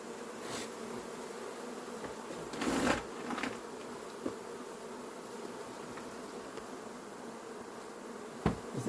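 A recently settled honeybee swarm at Vaux-le-Pénil buzzes in a steady, faint drone, with a few louder bees passing close by and brief handling knocks.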